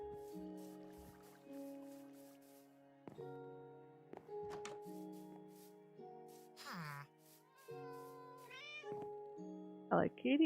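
A cat gives a few short rising meows toward the end, heard over soft, steady background music with no one talking.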